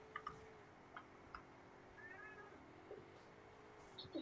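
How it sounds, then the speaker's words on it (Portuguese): Cat meowing faintly in short, repeated calls over a quiet background hum, with a couple of small clicks. "O que tá acontecendo com esse gato que não para de miar?"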